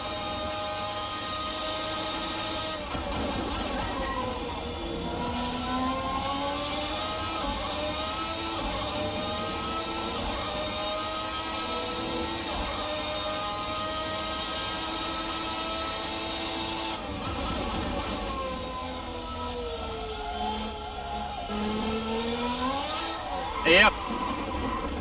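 A Formula 1990 V12 race car engine in the Race Sim Studio sim, screaming at high revs and rising and falling through gear changes on a flying lap, loud and steady throughout, with someone commenting over it.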